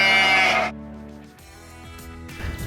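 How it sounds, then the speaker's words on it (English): A rare Canterbury sheep bleats in a paddock in rural New Zealand: one loud, close, wavering bleat, then a quieter stretch of outdoor background with faint shuffling. "release the rare Canterbury uni sheep to live the only way uni sheep should. Wild and free-ish in a paddock."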